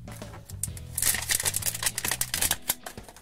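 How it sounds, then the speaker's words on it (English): A zipper on LOL Surprise Pets Series 3 layered toy packaging is pulled open with a rapid, ratcheting rasp of closely spaced clicks, near and fairly loud, preceded by a brief rustle. "Pull down the zipper on the first layer."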